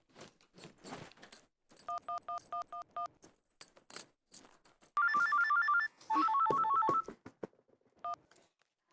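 A telephone rings for a late-night call in a Hindi TV sitcom. First comes a quick run of short electronic beeps, then two loud, sustained warbling ring bursts close together, with no voices.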